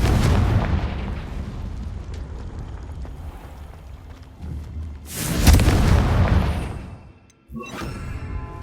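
Confringo fire spell from Hogwarts Legacy bursting in a loud, booming explosion midway through, set against steady rumbling game ambience, then a brief drop to near silence before the background returns.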